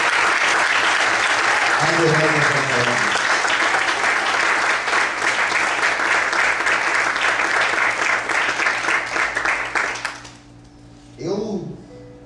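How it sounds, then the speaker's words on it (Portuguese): Sustained applause from a church congregation, loud and dense for about ten seconds before fading out, with a preacher's voice briefly heard over it near the start and end. "Desocupe a sua mão e aplaude o Senhor."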